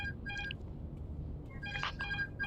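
Electronic telephone ring heard in a cockpit setting during an Airbus A350 flight simulation, two short bursts of tonal ringing separated by a pause, fairly clear over a low background hum.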